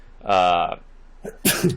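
A single loud, close sneeze bursts out during a tabletop Dungeons & Dragons session, followed moments later by a short throat-clearing or second sharp outburst.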